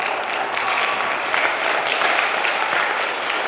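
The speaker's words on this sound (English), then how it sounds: "Give them a nice round of applause." Applause from schoolchildren and staff at a magic show in a school setting, a dense, even wash of clapping held steady throughout, with faint crowd voices underneath.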